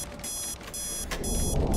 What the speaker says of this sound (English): our alarm's ringing again